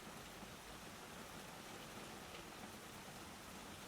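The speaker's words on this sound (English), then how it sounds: "The rain outside tapped gently on the glass" Steady rain patters softly on greenhouse glass, an even, unbroken wash of drops with no voices over it.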